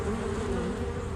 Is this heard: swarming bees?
yes